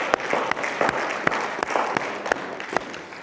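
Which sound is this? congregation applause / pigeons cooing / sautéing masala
congregation applause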